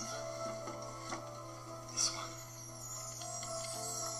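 A clockwork wind-up automaton writing figure, complex like a music box, its mechanism giving faint ticking, whirring and clicking with a steady low hum, quiet and close, a brief louder click midway.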